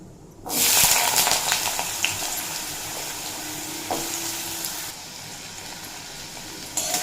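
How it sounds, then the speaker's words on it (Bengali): Potatoes dropped into hot oil with black cumin seeds, giving a sudden loud sizzle that settles into steady frying crackle with some scraping and stirring, fading slightly toward the end. "দিয়ে দেড় মিনিট মতো ভেজে নেবে লো টু মিডিয়াম ফ্লেম করে"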